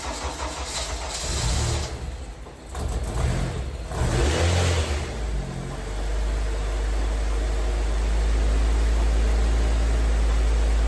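A Honda K20 engine swapped into an EK hatchback cranks over with several uneven bursts, catches, and settles into a loud, steady running drone up close.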